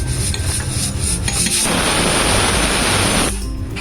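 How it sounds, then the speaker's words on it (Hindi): Rice being stirred in a pot while making mutton dum biryani, a close, gritty scraping and rubbing of grains against the metal that swells into a loud rasp for a couple of seconds, then eases off. "इस तरह से चावल को एक बार हम इस तरह से चला लेते हैं।"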